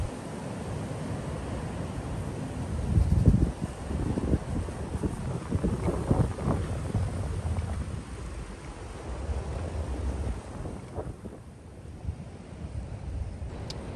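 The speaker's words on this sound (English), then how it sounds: "the wind is really picking up." Strong wind buffets and rattles a wooden bird hide at Wicken Fen with gusty rumbling and creaking, loud near the start and easing later, no voices.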